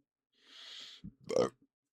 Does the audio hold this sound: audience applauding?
no